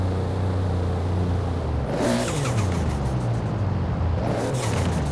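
In the racing game Forza Horizon 4, a car engine revs hard and climbs in pitch, with gear changes and a whirring, accelerating roar that stays loud and close throughout.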